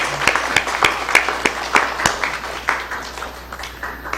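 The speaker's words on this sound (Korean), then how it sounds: "감사의 박수 한번 보내겠습니다." Congregation at a Korean church worship service applauding in thanks, with a scattering of sharp individual claps over a broad wash of hands that gradually thins toward the end.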